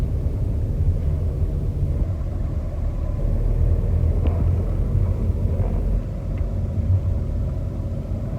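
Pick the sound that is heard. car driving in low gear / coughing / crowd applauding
car driving in low gear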